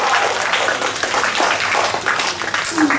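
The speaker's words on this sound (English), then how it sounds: "Let's clap once and for all these amazing participants" An audience at a school declamation competition applauds the participants, a dense, steady burst of clapping from a crowd.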